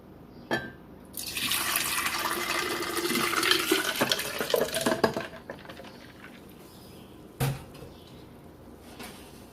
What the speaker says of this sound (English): add more water to make 5 cups